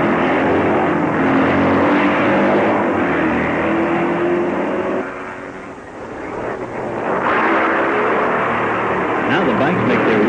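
Racing motorcycles at the 1958 Catalina Grand Prix roar past on a town street course, a loud, gritty engine drone that dips briefly midway and rises again as they rev, with a narrator's voice talking over it.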